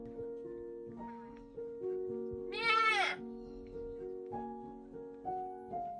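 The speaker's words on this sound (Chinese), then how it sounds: "哇，这小羊啊太可爱了" A lamb gives one clear, wavering bleat in the middle of an outdoor scene in a mountain village, with people talking nearby before and after.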